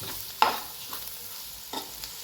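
Radish curry masala fries on a low flame while a spoon stirs it, with a few scattered scraping strokes over a soft, steady sizzle and no talking.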